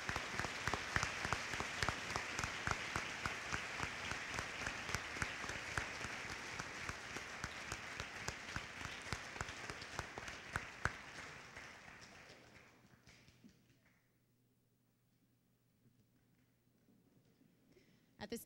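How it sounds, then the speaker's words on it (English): Sustained applause from a school awards-ceremony audience honoring the magna cum laude graduate, steady dense clapping for about twelve seconds before it fades away to near silence. "At this time, we'd like to give a round of applause to our magna cum laude."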